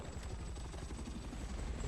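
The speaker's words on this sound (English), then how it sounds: "I'm sure you probably saw that helicopter fly over." A helicopter in the video game Battlefield 6 flies over, its dense rotor thump steady and fairly faint, with no other sounds.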